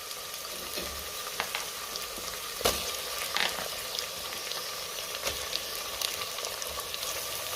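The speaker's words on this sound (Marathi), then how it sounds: "आणि टोमॅटो 2 मिनिटं चांगला मी परतून घेणार आहे" Tomato sautés in a pan of ginger-garlic masala for masale bhat, giving a steady close sizzle with scattered clicks and scrapes from stirring.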